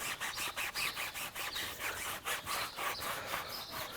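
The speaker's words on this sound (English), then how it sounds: "this applicator block here, and we'll just go around the tire." An applicator block scrubs dressing onto a car tire in quick, rhythmic back-and-forth rubbing strokes, close and steady, with no voices.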